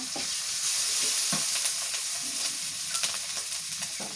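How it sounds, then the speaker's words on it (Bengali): Onion and chili sizzle in hot oil in a pan as cumin and ginger-garlic pastes are added while beef tripe khichuri is cooked; a steady, close crackling hiss with occasional stirring scrapes and no talk. "পেঁয়াজ মরিচ ভাজা হয়ে গেছে এবার জিরা মশলা বাটা দিই"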